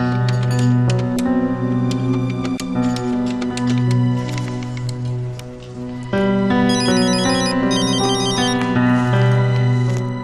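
An outgoing telephone call rings with a loud, repeating electronic tone pattern, the tones starting and stopping in a steady cycle, heard close and clear without speech.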